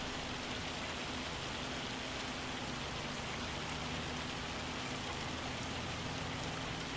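Hail pelts a tractor in Farming Simulator 25, a steady dense hiss of hard pellets drumming on surfaces with a low engine hum underneath, unbroken and loud throughout.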